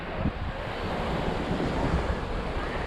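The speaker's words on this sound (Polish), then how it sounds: "Tak wygląda plaża w Alicante." Surf rolls onto the beach at Alicante in a steady, continuous wash of breaking waves, with wind buffeting the microphone throughout and no voices.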